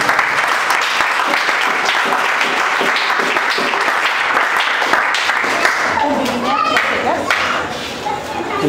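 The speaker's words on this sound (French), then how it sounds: "Je pensais que vous allez applaudir." Audience at a school-year opening event clapping loudly and steadily, dense applause close by with some thumps, easing slightly near the end as voices come through.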